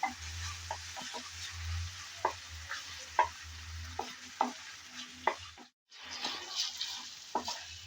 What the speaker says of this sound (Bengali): আদা রসুন পেঁয়াজ আবারও একটু নেড়ে চেড়ে ভেজে নেব